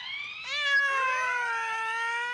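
A cat gives a long, drawn-out, tonal meow that starts abruptly and slowly falls in pitch, loud and close, after faint background noise, with no talking.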